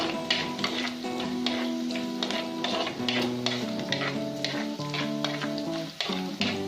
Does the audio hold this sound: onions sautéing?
yes